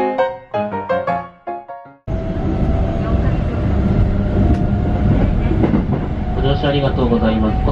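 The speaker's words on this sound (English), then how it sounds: "Gonna go on the 211 train to Sengakuji." Onboard a Keikyu train 211 riding toward Sengakuji, a steady loud rumble of wheels and carriage noise that starts abruptly after a short electronic chime melody.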